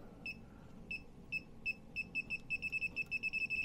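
An electric cable tracer emits short high electronic beeps on the identified circuit, sparse at first, then coming quicker until they form a rapid regular train, clear over a faint background hum.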